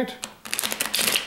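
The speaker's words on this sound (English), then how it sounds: "Give them a little riffle shuffle." A deck of playing cards is riffle shuffled close up, giving a short, dense burst of crisp fluttering card clicks that builds over about a second.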